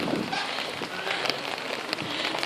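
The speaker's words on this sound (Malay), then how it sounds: "Hujan." Rain falling in an outdoor town square, a soft continuous patter of drops on surfaces with occasional sharper ticks, heard alone at low level.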